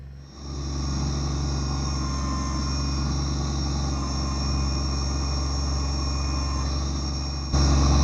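A Kubota BX25D compact tractor drones steadily at close range while pulling a root out of a ditch, its engine hum and hydraulic whine constant with no talk.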